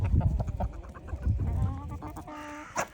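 Several chickens cluck and squawk close by in quick bursts, with a sharp higher call near the end.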